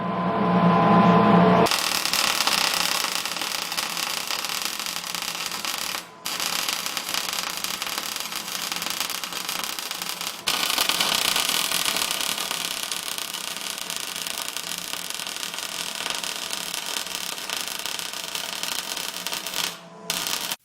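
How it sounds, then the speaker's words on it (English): Welding on a car's back half: a continuous loud crackling hiss that runs for long stretches, broken by a few brief pauses, close and steady throughout. "We're going to go ahead and weld this out."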